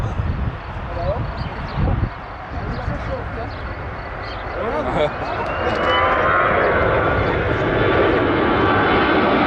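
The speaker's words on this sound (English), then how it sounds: "This EasyJet flight conducted a go-around following a runway incursion by a ground vehicle." An EasyJet airliner's engines spool up during a go-around after a ground vehicle entered the runway. The jet roar builds from a rumble into a loud, steady whine, and a voice can be heard over the early part.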